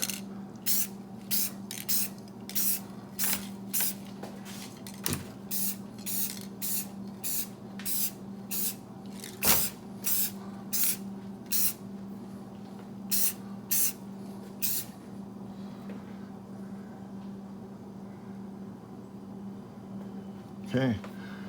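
Red paint sprayed in very light coats onto a custom intercooler for a GR Corolla, heard as a long series of short, evenly repeated aerosol hisses close by over a steady hum, with a voice speaking at times.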